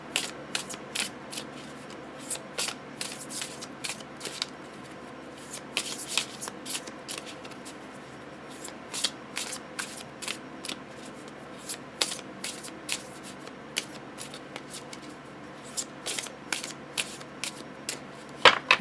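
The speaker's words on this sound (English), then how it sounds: "it overhand shuffles really beautifully" Oracle cards are shuffled overhand, giving a steady run of soft, papery slaps and flicks close to the ear, continuing for the whole stretch with no voices.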